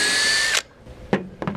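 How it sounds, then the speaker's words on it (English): A power drill whines at high speed boring a pilot hole for an outboard engine mount, depth-limited by a hose clamp on the bit, then stops, followed by a few short bursts of drilling. "So the drill will only go this deep and then it hits the hose clamp."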